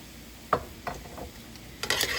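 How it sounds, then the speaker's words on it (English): Beef and broccoli stir-fry with a dash of honey is worked around a cooled-down pan, producing a few sparse scrapes and clinks of a utensil with a faint sizzle underneath and a brief rustle at the end. "we're just gonna work this in the pan here"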